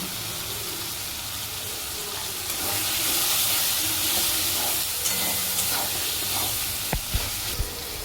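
Ginger paste and cumin powder sizzle in a hot pan while a Bengali moong dal with pointed gourd is cooked, giving a steady, close frying hiss that swells midway, with a few faint clicks near the end.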